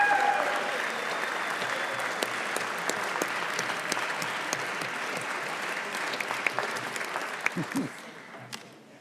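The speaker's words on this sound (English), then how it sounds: "A brief round of applause for them." A round of applause fills a state House chamber during a floor session: steady, dense clapping from many people that holds for several seconds, then thins out and fades near the end.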